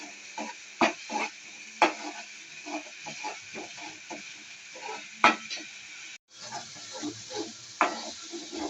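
A spoon stirs chicken tomato curry with mint in a pan, giving a series of sharp scraping clicks and knocks over a soft, constant sizzle, fairly close and moderately quiet.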